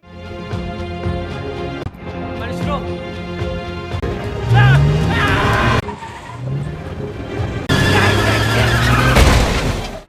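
A car in a film scene rams into another car ahead of it, with engine roar, tire skids, and heavy crashing impacts under dramatic music, with bursts of loud noise in the second half.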